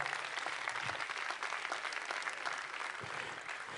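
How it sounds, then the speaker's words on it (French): An audience applauding at a business award ceremony in Lot-et-Garonne, a continuous, even patter of many hands clapping at moderate loudness for a few seconds. "Avec quelques applaudissements bien mérités"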